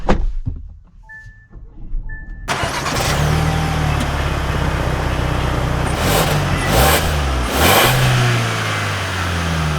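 A 2024 Kia Sorento EX X-Line with the 2.5T engine starts up after a quiet stretch with a few chimes, then settles into a steady idle and revs gently as it pulls away.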